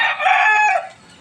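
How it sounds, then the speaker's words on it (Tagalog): A rooster crows once, loud and close, the call stretching for nearly a second before trailing off into quiet. "may mga sound ng manok"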